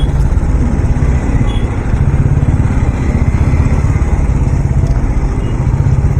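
A 457cc, 47-horsepower sports motorcycle engine running steadily and loudly throughout, a close continuous rumble on a daily ride from Dombivli to Mumbai.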